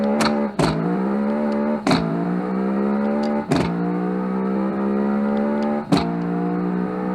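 Rear-engined V8 hatchback with a dual-clutch gearbox in Automation, its simulated engine droning loud and steady as it accelerates, pitch climbing through each gear then dropping sharply at four quick shifts.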